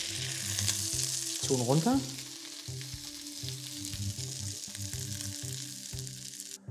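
Fish fillet sizzles and crackles steadily in a hot frying pan, a continuous close frying hiss, with a brief spoken comment near the start.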